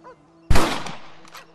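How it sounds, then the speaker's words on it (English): A single loud rifle shot cracks close by in the Western video game Red Dead Redemption, a sharp burst that decays into a short rumbling tail, preceded by a faint low game sound. "Your back's tense and it's making the rifle jump."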